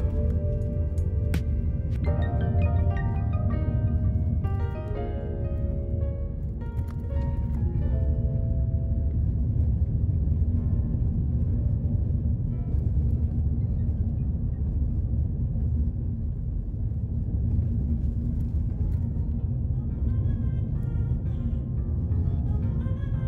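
A car drives through the community of Aylsham in Jamaica, with a steady low engine and road rumble running throughout and a few faint tonal sounds early on.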